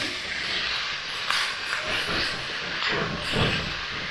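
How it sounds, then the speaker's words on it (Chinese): Torn green peppers stir-fried hard in a hot wok, a steady broadband hiss and sizzle running throughout with a few louder surges as the peppers are tossed. "倒入掰好的大辣椒，把它爆炒一下。"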